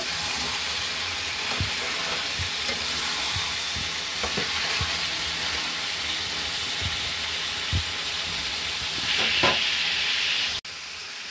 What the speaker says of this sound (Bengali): এখন ফুলকপিগুলো দিয়ে দিব। মিশিয়ে নিতে হবে।